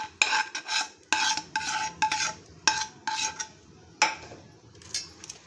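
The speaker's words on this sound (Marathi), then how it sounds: "आता हे आपण खजूर आणि गुळाचं मिश्रण या ड्रायफ्रूटवरती टाकून घेऊयात." A sticky date and jaggery mixture stirred into dry fruits for laddu, with a spoon scraping and clacking against a pan in about a dozen quick, uneven strokes, close and fairly loud.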